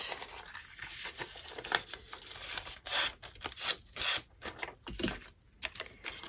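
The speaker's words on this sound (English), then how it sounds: "I think I will cut it down a bit." Scissors cut down a paper craft tag in a run of close, crisp snips and crinkles that come in uneven bursts with short pauses between them.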